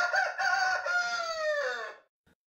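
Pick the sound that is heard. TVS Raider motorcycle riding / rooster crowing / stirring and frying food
rooster crowing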